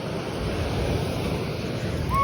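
Sea waves wash continuously on Madhavpur beach, a near, steady roar of surf with some wind across the microphone.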